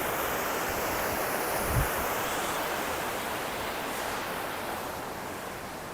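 Fast river water rushing under a road bridge near a junction in Kilinochchi, a steady broadband roar that stays loud and continuous throughout, with no talking.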